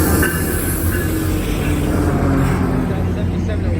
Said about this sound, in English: Main lead locomotive headed by MP36, number